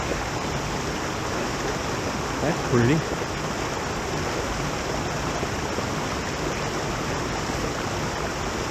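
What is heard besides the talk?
creek water running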